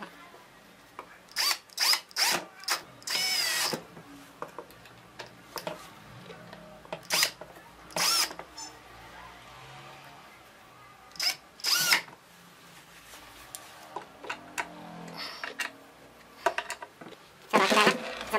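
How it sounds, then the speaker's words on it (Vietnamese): A power drill whirs in short bursts, stopping and starting again and again as screws are driven into a cabinet drawer, close by in a quiet room. "các bạn có khoan thì chúng ta khoan này, bắt vít này"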